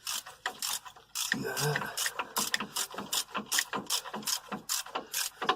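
A ratchet wrench clicks rapidly while removing a bolt from the front brakes of a Renault Scenic, in a steady run of close, sharp ratcheting strokes with a short spoken word early on.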